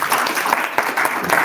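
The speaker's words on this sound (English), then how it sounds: "Let's give them a round of applause." Luncheon audience applauding the candidates, steady close clapping from a modest crowd, sustained and even throughout.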